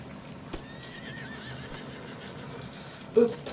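In a video game, a horse gives a faint, wavering whinny over a quiet, hissy background, followed near the end by a short, brief thump.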